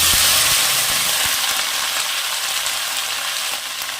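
Gourd (lau) leaves frying in a pan with black cumin seasoning, a steady loud sizzle and hiss that tapers slightly, with a few soft stirring knocks near the start and no talk.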